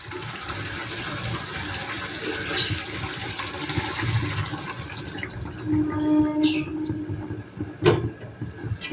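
Water is poured into chicken curry cooking in a pan, a steady wash of noise with a faint sizzle over about nine seconds.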